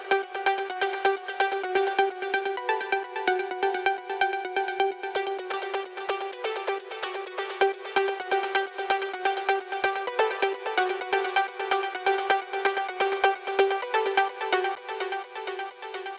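Bright synth arpeggio from an EDM outro made in FL Studio, a fast steady stream of plucked notes that repeats evenly and plays alone at moderate volume.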